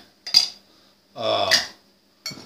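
A regular glass pie pan clinks and scrapes in short bursts against other kitchenware, three separate handling sounds with quiet gaps between them, close by.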